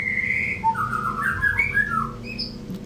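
A white-rumped shama (murai batu) sings a short phrase of bright, clear whistled notes that rise and fall. The song is fairly close and sounds over a low background hum, with no talking.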